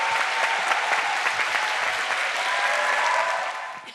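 Sustained applause from a church congregation welcoming a pastor onto the stage for a sermon, steady and full for several seconds before tapering off at the end.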